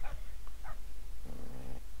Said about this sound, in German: Was für Hunde heulen eigentlich die ganze Zeit rum?